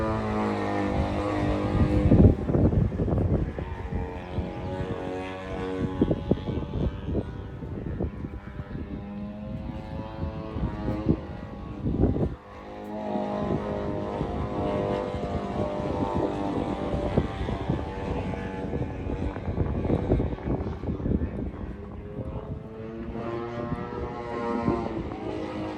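A Mamba 120 model airplane flies at the Joe Nall 2022 radio-control event, its engine droning steadily for a long stretch and rising and falling as it passes, with wind noise buffeting the microphone.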